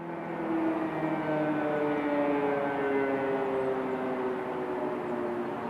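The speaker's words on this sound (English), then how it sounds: "A woman standing in the midst of blaring sirens, sending up a prayer." A steady air raid siren in Kyiv wails with long sustained tones, slowly shifting in pitch, sounding from a distance with no talking.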